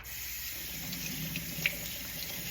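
Fresh dill rinsed under a running kitchen tap, a steady close hiss of flowing water splashing into the sink with faint shifting as the herbs move through the stream.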